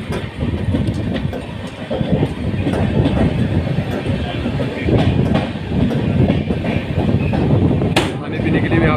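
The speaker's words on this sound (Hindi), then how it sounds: "राजपुरा जंक्शन से डिपार्चर अपनी जनशताब्दी एक्सप्रेस।" The Jan Shatabdi Express pulls away from Rajpura Junction, heard from on board as a steady rolling rumble with clickety-clack wheel beats and a brief sharp squeal, and muffled voices in the background.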